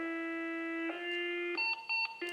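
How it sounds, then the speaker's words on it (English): A fire department pager sounds its alert: a series of steady sustained electronic tones that change pitch in steps, ending in a few short beeps. Nearby, clear and alone with no talk. "that beep beep and these tones. That lets us know there's a fire."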